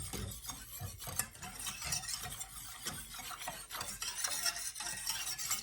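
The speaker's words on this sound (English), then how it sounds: "you just go ahead and put that in there and whisk it up" Packet gravy mix whisked with water in a pan, a rapid, continuous scraping and rattling of the whisk against the metal, fairly quiet and close throughout.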